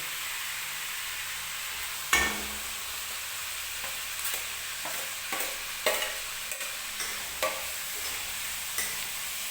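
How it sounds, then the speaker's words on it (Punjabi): Onions sizzle in a pan as peas, carrots, potatoes and green chili are stir-fried with them, a steady soft frying hiss broken by repeated clinks and scrapes of a stirring utensil, close and alone. "ਹੁਣ ਆਪਾਂ ਇਹ ਸਬਜ਼ੀਆਂ ਪਾ ਲਾਂਗੇ ਮਟਰ ਪਾ ਲਾਂਗੇ ਜੀ ਗਾਜਰ ਆਲੂ ਤੇ ਹਰੀ ਮਿਰਚ"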